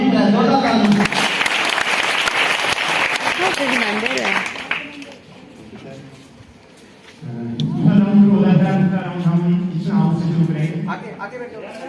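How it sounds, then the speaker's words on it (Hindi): Applause from a quiz audience bursts out loudly for several seconds and then fades, followed by someone speaking alone. "जोरदार ताली"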